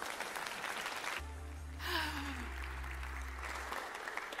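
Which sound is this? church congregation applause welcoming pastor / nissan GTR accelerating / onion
church congregation applause welcoming pastor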